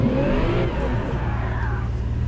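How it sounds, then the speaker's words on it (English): A car doing burnouts in Gran Turismo 7 revs with a loud, close engine drone and a rising whine that settles into a steady low hum, with no voices. "I ran into somebody who's just like doing burnouts."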